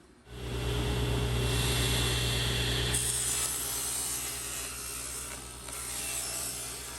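A table saw with its blade set just under 3 inches rips through plywood. The motor surges to a loud, close whine, then settles into a steady cutting drone with a slight dip partway through.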